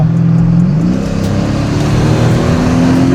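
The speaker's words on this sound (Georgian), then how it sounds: "ძალიან მაგარი ხმა აქვს ამ მანქანას" A Mercedes-Benz W211 with the 5.0-litre M113 V8 revs loudly and steadily, its deep engine note rising in pitch toward the end.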